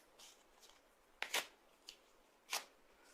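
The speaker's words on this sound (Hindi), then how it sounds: "ये मेरे निष्कासन का नोटिस जो मुझे दिया गया है, ठीक उसी तरह कैमरे के सामने फाड़ रहा हूं" A paper eviction notice is torn apart by hand in a quiet room, heard as a few faint rustles followed by two sharper, louder ripping bursts.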